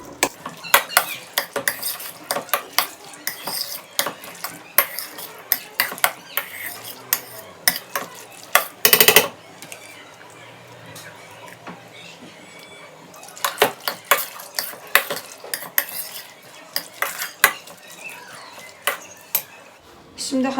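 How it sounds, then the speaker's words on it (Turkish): Yogurt being stirred into a mixture in a bowl, with repeated close clinks and scrapes of a spoon against the dish in an irregular rhythm, with a few short pauses. "Yoğurduyla şöyle güzelce karıştırıyorum."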